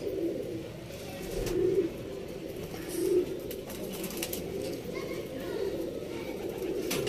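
Cooing pigeons in a breeding loft make a soft continuous murmur, with a few louder rolling coos standing out now and then and faint speech in the background.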